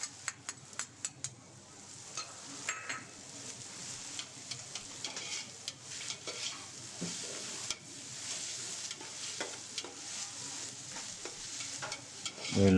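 Onions with salt fry in a pan for prawn biryani, a soft steady sizzle with occasional stirring scrapes and clicks, fairly quiet and with no talking.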